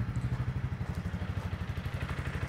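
A Honda CRF300 Rally on its stock exhaust pulses rhythmically at full throttle near maximum revs, an even, throbbing beat that is fairly faint and continuous throughout.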